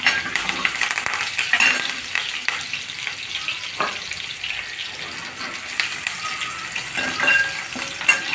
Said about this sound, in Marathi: आता आपण त्यात लसणाच्या ठेचलेल्या पाकळ्या टाकून घेऊया. सोबतच थोडासा कढीपत्ता.